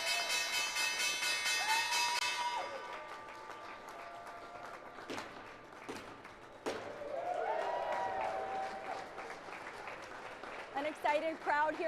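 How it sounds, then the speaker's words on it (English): Excited crowd applauding and cheering on the New York Stock Exchange floor as the closing bell fades, a dense wash of clapping with a few thuds and a voice talking over it. "An excited crowd here on the floor."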